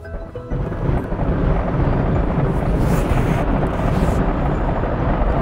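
A thunder weapon striking a planet in the mobile game Solar Smash, a loud, dense rumbling roar that starts abruptly and sustains for several seconds with crackling bursts on top.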